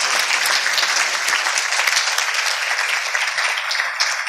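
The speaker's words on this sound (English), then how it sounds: "let's also give panel 2 a round of applause for sharing their stories" Listeners at an afternoon patient panel give a sustained round of applause, with loud, even clapping from a nearby crowd.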